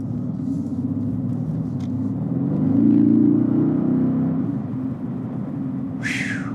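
A 2018 Mercedes-AMG GT R cruises with a deep, steady engine rumble heard from inside the cabin, swelling briefly as it pulls harder, then settling back, with a short high-pitched squeak near the end.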